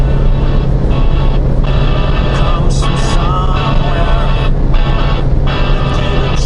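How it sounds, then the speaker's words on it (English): Inside a new Suzuki Jimny cruising on the motorway, wind and engine noise form a loud, steady roar with a low hum that never lets up. "can actually block out some of this wind noise and engine noise."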